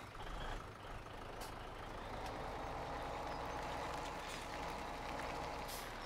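A truck reverses in the Farming Simulator 17 farm game, its steady engine rumble running throughout alongside a repeating reversing beeper and faint air-brake hiss, with no talking.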